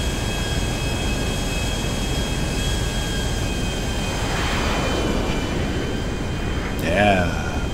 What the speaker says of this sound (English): Now we have a private aircraft.